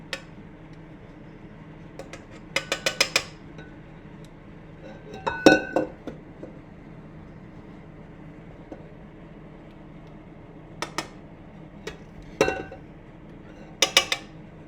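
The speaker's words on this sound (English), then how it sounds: "you scrape down the sides of your bowl again" Sachertorte batter scraped down the sides of a mixing bowl, with scattered light clinks and scrapes of utensil against the bowl, some in quick bursts, against a quiet kitchen background.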